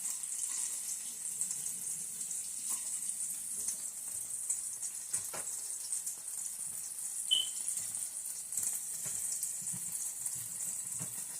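Water from a kitchen tap runs steadily while hands are rinsed beneath it, a faint, even hiss with a few small splashes and clicks.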